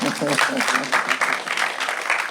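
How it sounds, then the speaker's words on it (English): Audience applause at a tertiary business competition launch for the defending champions, a burst of clapping from a crowd with a voice speaking briefly over the start. "Round of applause for that."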